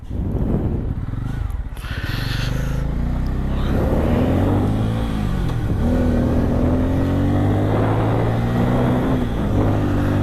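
A Bajaj Pulsar 250N motorcycle engine hums and rises in pitch as the rider accelerates through the gears, steady and fairly loud beneath wind rush while riding.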